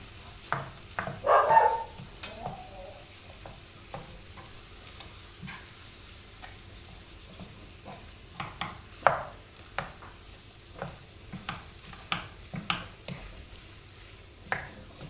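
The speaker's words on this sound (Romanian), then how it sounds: "O amestecăm bine cu ceapa." Minced meat being stirred into softened onions in a frying pan, with a faint sizzle under scattered scraping and clinking strokes of a utensil against the pan, one louder burst near the start.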